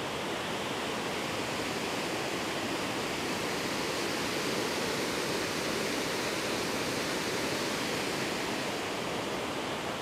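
Loud, steady rushing water in a Connecticut park in winter roars continuously, a dense broadband wash like a nearby waterfall or fast stream.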